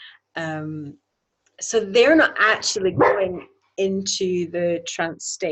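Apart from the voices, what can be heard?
dog barking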